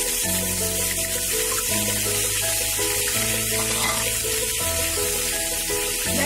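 Brinjals fry in hot mustard oil in a wok, a loud, continuous close-up sizzle that holds steady throughout with no voices.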